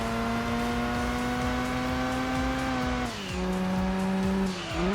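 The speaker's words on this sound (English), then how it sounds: "some of the engine sounds that were used in this game are the same as what we hear in Gran Turismo 4 or 3" In the Gran Turismo 2 video game, a car engine holds a steady whining drone, then drops pitch as the car brakes, with tire squeal rising alongside before the revs climb again.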